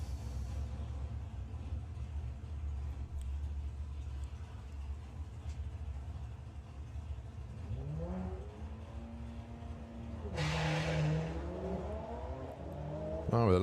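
An Audi TT-RS and a modified VW Polo launch off the line at a drag strip. A low engine rumble builds to a louder revving whine near the end, heard at a distance with crowd and track noise underneath.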